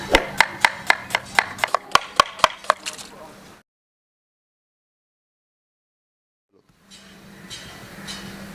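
About a dozen evenly spaced knife chops through potatoes on a cutting board, sharp and close, followed by a stretch of silence and then a low background hum returning.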